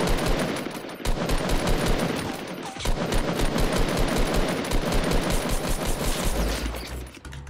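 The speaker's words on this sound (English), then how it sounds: "I'm getting shot from another team." Gunfire from an opposing team in the video game Fortnite Battle Royale rattles in long, rapid automatic bursts with brief gaps. It is loud and dense throughout, and no voices are heard over it.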